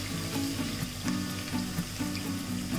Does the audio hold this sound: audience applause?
no